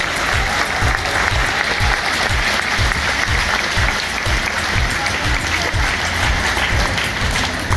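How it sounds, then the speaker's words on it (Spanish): Loud, sustained applause from a large audience at a choral concert in Tijuana, thick continuous clapping that stays even and close throughout. "les pido un aplauso para todos los que han sido parte de este proceso"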